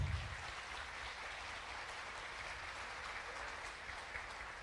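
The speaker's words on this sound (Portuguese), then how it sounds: "Aplauda Jesus mais uma vez." A church congregation applauds in a steady, even wash of clapping that fills the space from start to finish with no talk over it.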